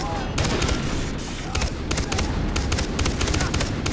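Rapid automatic gunfire in Far Cry 3 crackles in repeated fast volleys throughout, loud and close, with a player's voice talking underneath the shooting.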